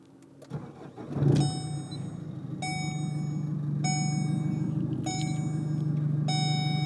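A Chevrolet car engine cranks briefly and catches, then settles into a steady, close idle hum, while a gauge display chimes in a few short electronic beeps at intervals; no talk.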